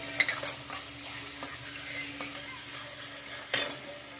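Masala with Kashmiri chilli fries in oil as chopped coriander goes in, giving a quiet hiss with light metallic clinks of a spoon against the pan at the start and again near the end.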